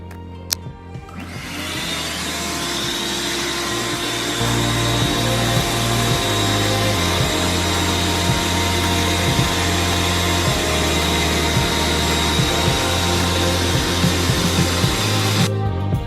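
A shop vacuum or dust extractor cleans up sawdust and wood scraps on a woodworking shop floor by the miter saw. It makes a loud, steady roar that holds from start to finish, with small knocks and rattles of debris underneath.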